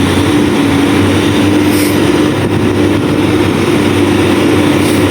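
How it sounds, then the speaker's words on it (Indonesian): A Fuso truck overtakes a white Hino 500 truck on an uphill road, a loud, continuous heavy diesel drone and rumble heard close for the full stretch with no talk. "Puso menyalip Hino 500, miring saja bosku, mantap. Mantap bosku, Hino 500 putih."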